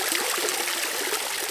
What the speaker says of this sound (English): Sometimes I go down to the river and just sit there and listen to the water flow.